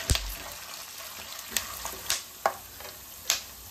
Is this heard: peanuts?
yes